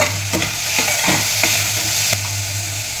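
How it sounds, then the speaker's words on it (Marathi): Finely chopped onion and tomato hit hot oil with a garlic-coriander paste, sizzling steadily while a spoon stirs and scrapes the pan in a few distinct strokes. "ते तेलामध्ये थोडंसं असं परतलं की लगेच आपण हा बारीक चिरलेला कांदा आणि बारीक चिरलेला टोमॅटो"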